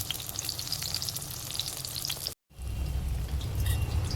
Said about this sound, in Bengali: এবার আমি বেগুনগুলো ভেজে নেব ভালো করে।